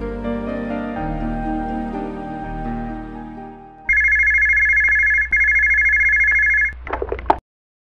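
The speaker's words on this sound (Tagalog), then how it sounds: "biglang mag-ring ang cellphone niya." A cellphone rings with a melodic ringtone, first a layered tune, then a repeating bright electronic tone, loud and close with no talking.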